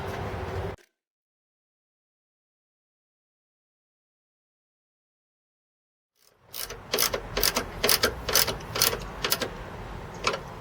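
Bolts on a Ford Crown Victoria cabin air filter housing under the AC housing are tightened by hand, giving a quick series of sharp ratcheting clicks after a long stretch of silence.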